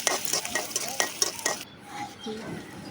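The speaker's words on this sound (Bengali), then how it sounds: "পেঁয়াজটা এখন একটু লাড়া দিলাম" Onion frying in a pan with dried chillies, stirred with a utensil in a run of scraping clinks and taps over a steady sizzle; the stirring stops partway and a softer sizzle carries on alone.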